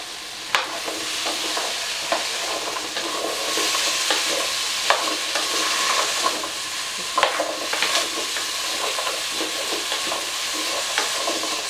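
Potatoes, green beans, carrots and cauliflower sizzle steadily in a hot pan for a vegetable curry, with a spoon scraping and stirring in irregular clicks over the continuous frying hiss.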